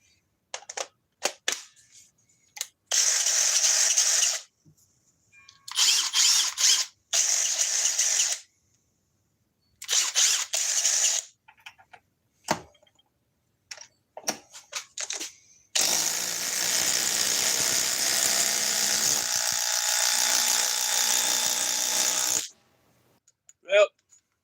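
A Craftsman cordless power tool running on a large 8 amp-hour battery pack whirs in several short, loud bursts separated by silences, then runs steadily for a longer stretch before stopping.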